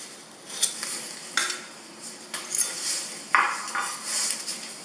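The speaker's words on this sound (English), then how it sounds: "Just run your knife along the edge. Cut out a nice little circle." A knife scrapes around a circle of rolled pastry for tartlet bases, giving several short, light scratching strokes with soft clicks against a baking tray, close by and moderately quiet.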